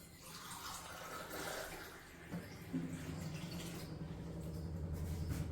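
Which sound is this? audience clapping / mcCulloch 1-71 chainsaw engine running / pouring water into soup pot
pouring water into soup pot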